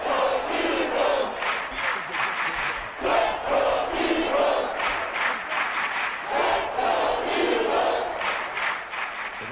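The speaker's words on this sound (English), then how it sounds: "This crowd trying to force a false start here." Loud, sustained roar of a packed football stadium crowd during an Eagles vs Bills game, swelling in waves to rattle the offense into a false start on third and inches, steady and dense throughout.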